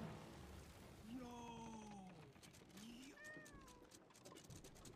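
Cat in the pirate adventure game Sea of Thieves lets out two drawn-out, clear meows in quick succession over a steady background hiss, close and fairly prominent.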